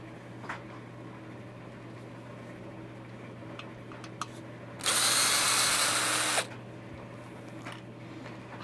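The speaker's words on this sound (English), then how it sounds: "we'll take out the jam screws that has a safety Torx on it" A power driver backs safety Torx jam screws out of a new Hampton Bay ceiling fan during bearing work: one loud, whirring burst of about a second and a half over a steady low hum, with no talking.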